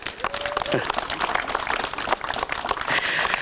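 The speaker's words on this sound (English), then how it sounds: "Let's give her a round of applause." An outdoor crowd at a groundbreaking ceremony for a recreation center claps in a steady, dense round of applause, with a few shouts and cheers mixed in over the clapping.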